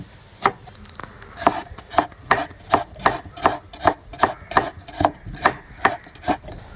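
Carrots finely chopped with a knife on a board for a mango carrot salad, a steady run of about fifteen sharp, close knocks in an even rhythm with no voices.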